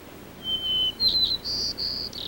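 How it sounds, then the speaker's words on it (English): A clear white-crowned sparrow song of thin whistled notes, a long opening whistle followed by a series of buzzy, sliding phrases, heard alone against quiet background. "You're listening to a white-crowned sparrow."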